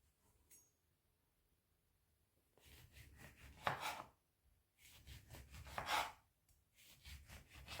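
A knife slices an orange into small thin pieces: quiet, close sawing strokes in three bursts, each a rapid series of rasping cuts against the fruit and board, separated by short pauses.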